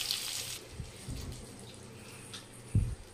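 Cooking oil pours into a pan for chicken pickle in a quiet kitchen, a soft trickling stream with brief splashes and a louder glug near the end.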